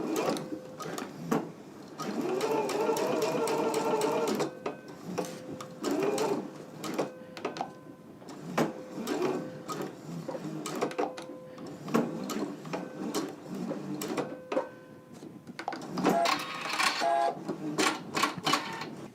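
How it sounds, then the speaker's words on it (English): A sewing machine stitches fabric in short rapid bursts, its quick mechanical clatter starting and stopping several times with brief pauses between runs, close and clear. "we're going to go to the sewing machine and we're going to stitch right here between the dots"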